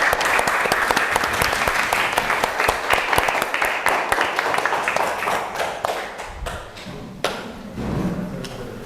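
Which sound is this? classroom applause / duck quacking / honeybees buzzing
classroom applause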